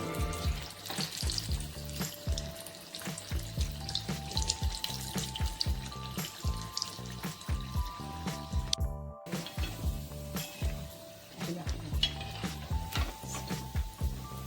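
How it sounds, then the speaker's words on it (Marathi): Bread rolls deep frying in oil for a crisp Maharashtrian snack, a steady dense sizzle running throughout with rattling clicks and clatter layered over it and a brief drop-out near the middle; music plays underneath. "कलर आला एकदम गोल्डन गोल्डन ही सुद्धा आपल्या छान अशी फ्राय"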